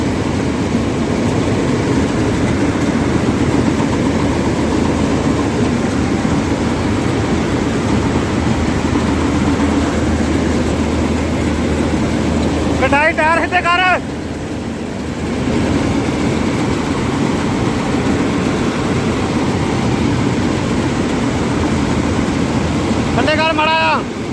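A combine harvester cutting mung beans in a field, with a loud, continuous engine drone throughout and a couple of short bursts of voices over it.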